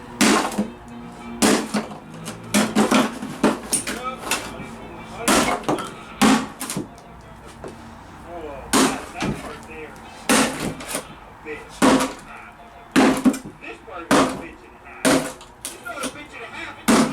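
A hammer repeatedly smashing a loudspeaker driven by a Yamaha receiver: a series of sharp, loud impacts at irregular intervals, some in quick pairs, close to the microphone, with people talking between the blows.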